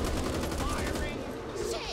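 Rapid automatic gunfire rattles through a firefight in the zombie shooter Back 4 Blood, a dense continuous burst of shots with faint voices mixed underneath.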